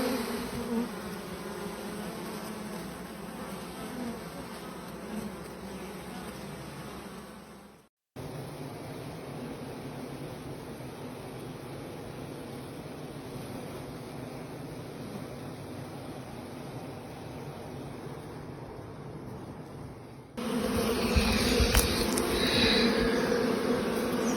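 Honeybees drone steadily at a frameless skep-style hive in a Finnish apiary, a continuous close buzzing that holds throughout, briefly cut near the middle and growing louder and busier toward the end.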